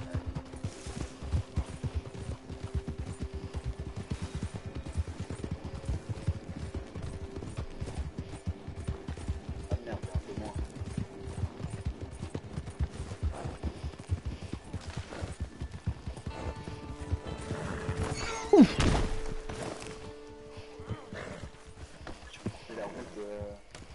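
A horse gallops steadily in Red Dead Redemption 2, its hooves drumming in a fast, continuous rhythm at moderate loudness, with a louder clatter and a brief whinny-like sound near the end.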